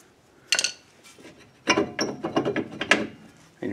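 Metal clicks and ratcheting scrapes from removing a screw on the rear wheel hub of a 2007 Kia Sportage, with a sharp burst early on, then a run of uneven close mechanical clatters.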